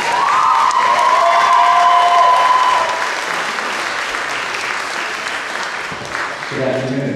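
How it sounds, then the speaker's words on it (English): An audience at an organ concert event applauds to welcome a speaker, a full burst of clapping with light cheering that eases into a softer patter, with a brief tone early on and a voice starting near the end. "Let's give him a round of applause."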